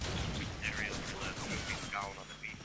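Gunfire crackles in Call of Duty 2 during an online team match, with sporadic shots and bursts under a constant busy game mix, while voices seem to talk over it.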